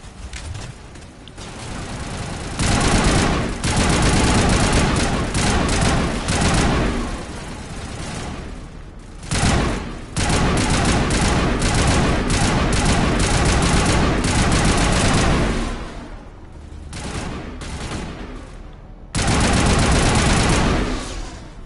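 Sustained gunfire in Mass Effect 1 Legendary Edition, loud rapid automatic bursts and heavy shots rolling almost continuously, with brief lulls between volleys.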